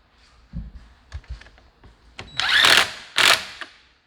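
A wrench tightens the handlebar clamp bolts on a TT750R Burromax mini bike during assembly, heard as scattered close clicks and taps followed by two louder bursts of rapid ratcheting.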